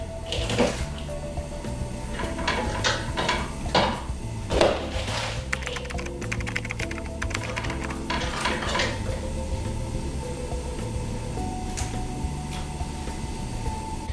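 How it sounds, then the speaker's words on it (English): Red cabbage and juniper berries being spread and layered in a pan for braising, with steady clattering and scraping of cookware under continuous background music. "literally spreading those around the pan and layering in the cabbage"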